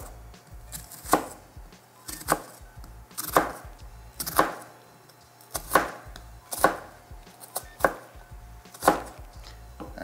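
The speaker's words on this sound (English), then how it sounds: "cut along these ridges on the onion" A knife chops an onion into fine dice on a cutting board, about ten sharp, evenly spaced knocks that ring out close and clear with quiet pauses between them.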